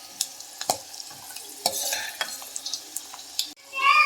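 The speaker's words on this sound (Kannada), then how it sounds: "ಉದ್ದಿನಕಾಳು ಹಾಕಿಂದು ಸಹ ಫ್ರೈ ಮಾಡ್ಕೋಬೇಕು ಚೆನ್ನಾಗಿ." Urad dal frying and being stirred in hot oil for a garlic rice tempering, with a steady sizzle and sharp spoon scrapes against the pan, close by and without speech.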